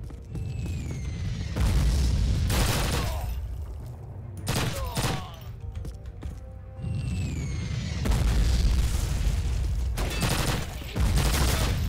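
Grenade explosions in the Call of Duty video game, several loud booming blasts and bursts of gunfire spread across the stretch with rumbling decay between them.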